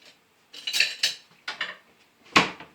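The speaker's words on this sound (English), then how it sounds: "and fold my chocolate chips in" A large spoon folding chocolate chips into cake batter in a bowl, with a few soft scrapes and clinks against the bowl, spaced out and close by.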